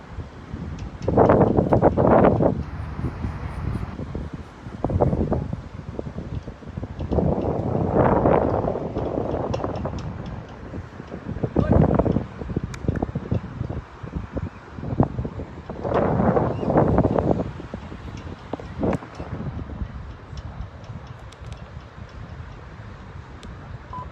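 Heavy wind buffets the microphone on an outdoor lawn bowls green during a mixed fours final, loud rumbling gusts that come in repeated surges and ease between them, without speech.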